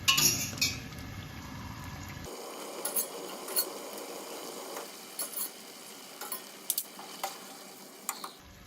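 Soft scraping and scooping noises as spaghetti noodles are scooped into a pan, with light metallic clinks of a utensil against the pan, scattered taps over a faint background hum.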